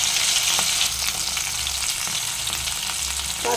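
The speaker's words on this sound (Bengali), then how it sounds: "সব একসঙ্গে ফ্রাই করে নেব।" Salt, turmeric and Kashmiri chilli powder fry together in hot oil for a vegetarian aloo dum, giving a dense, close crackling sizzle with light stirring taps.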